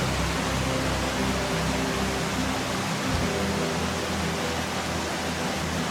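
Autumn waterfall at the Hérisson cascades, a steady dense roar of falling water that stays constant and fairly loud throughout, with no voices.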